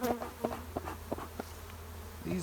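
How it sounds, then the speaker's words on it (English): Honey bees buzz around an opened hive during spring preparation, close, irregular droning with individual bees passing near and fading, a low steady hum underneath. "These bees are starting to get not happy too. They're starting to come at me pretty good."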